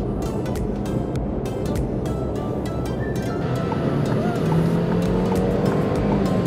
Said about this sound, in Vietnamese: Ở ngay cả những cái nước ga đầu tiên thôi thì chúng ta đã thấy được rằng là xe tăng tốc rất nhanh